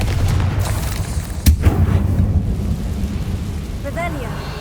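Confringo fire spell blast in Hogwarts Legacy: one sharp, loud boom erupts over a deep rumbling bed, then trails off into fading low rumble.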